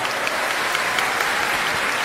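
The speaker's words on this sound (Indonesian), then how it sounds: "Tepuk tangan buat Mariam." An audience claps for Mariam at a talk in a university campus mosque, a dense, steady burst of applause that fills the short stretch with no voices over it.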